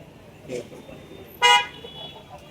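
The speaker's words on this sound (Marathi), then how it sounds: "तिकडे पण ट्रॅफिक लागलेला आहे" A car horn gives one short, sharp toot close by on a crowded Konkan market street before Ganesh festival, with a fainter earlier honk and low street murmur behind it.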